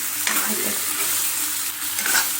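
Onions and chicken are stirred together in a hot pan, giving a loud, continuous sizzle with scraping bursts from the stirring spoon and no voices.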